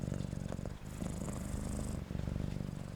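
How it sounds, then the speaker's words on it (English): A cat purrs close up, a steady rumbling purr with a regular in-and-out rhythm of breaths, loud and continuous throughout. "he looked up at her with his bright green eyes and started to purr"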